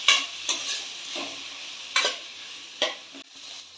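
Capsicum and tomato stirred in an oiled pan, with a steady sizzle broken by several sharp scraping strokes of a spoon against the pan, close and fairly loud, no voices.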